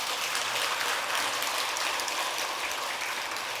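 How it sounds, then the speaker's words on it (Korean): Dense, steady applause from an audience at a Buddhist dharma talk at Tongdosa temple, a continuous hiss of many hands clapping at even loudness throughout, with no voices over it. "이럴 때 박수 치는 거예요."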